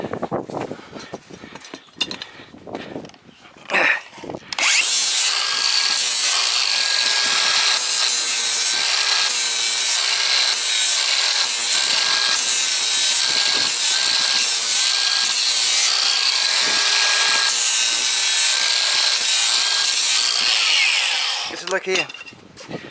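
A horse's hoof is trimmed and rasped, with scattered rough scraping followed by a long, loud, continuous rasping drone that lasts nearly twenty seconds. A voice talks briefly at the start.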